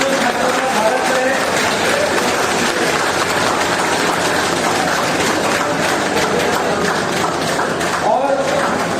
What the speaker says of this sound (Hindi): एक बार जोरदार तालियों से इन छात्रों का स्वागत करें।